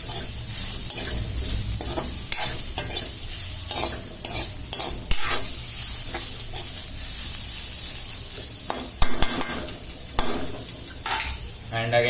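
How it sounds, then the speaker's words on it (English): Bitter gourd fries in oil in a pan while being stirred, a continuous bright sizzle broken by repeated scraping and clattering strokes of the spoon, close and fairly loud throughout. "Stir it for a while."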